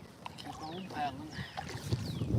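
A fishing kayak is paddled on open water, with soft strokes and light water sounds over a brief, fairly quiet stretch amid faint chirp-like outdoor sounds.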